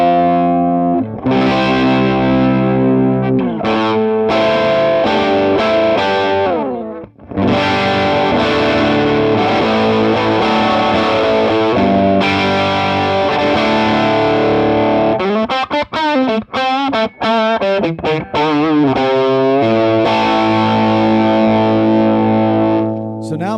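Distorted electric guitar chords from a Les Paul played through the rhythm channel of a 1968 Fender Bassman amp, loud and continuous strummed riffs with a brief pause and some choppy muted passages.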